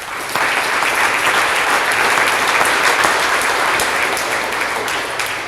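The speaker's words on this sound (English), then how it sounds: "Give yourselves a round of applause." Loud, dense applause from a crowd at a National Night Out crime fighter award ceremony in Indianapolis, a sustained wash of clapping that holds steady for several seconds before easing slightly at the end.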